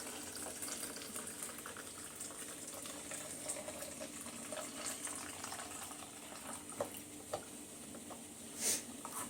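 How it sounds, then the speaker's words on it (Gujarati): A kitchen tap filling a vessel with water beside tea on the stove, a soft continuous trickle and hiss that goes on for several seconds, faint and distant, with scattered small clicks and one louder bump near the end. "એક સાઈડ પાણી ભરું છું."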